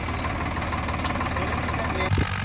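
Agriking 2055 four-wheel-drive tractor engine running in a farm field, a steady low rumbling drone with a knocking diesel character, close and continuous, with a brief thump near the end.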